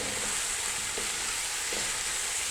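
Chicken frying in hot oil with green chillies, a dense, even sizzle close by with a couple of faint stirring taps, no voices.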